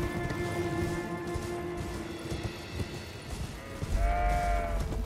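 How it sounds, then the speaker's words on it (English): A black sheep bleats in the video game Elden Ring, a wavering bleat near the end over a busy ambient background with soft footfalls. "Black sheep."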